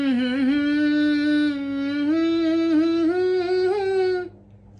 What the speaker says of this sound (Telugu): ఈ సౌండ్ ని మనం టు హమ్ అంటాం.